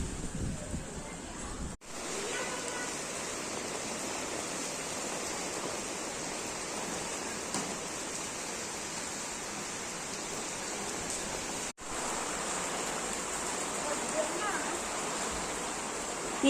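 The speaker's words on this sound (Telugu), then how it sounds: "చూడండి ఇగో వాన ఇట్లా పడతా ఉంది" Rain falling steadily in strong, gusty wind, a dense constant hiss heard close to the microphone with brief dropouts, and no clear talk over it.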